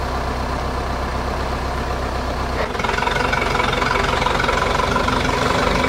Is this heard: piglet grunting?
no